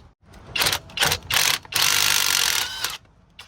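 A ratchet works a 12 mm bolt off the strut of a 2007-2013 Toyota Highlander, giving several close bursts of rapid clicking, the longest run in the middle before it stops.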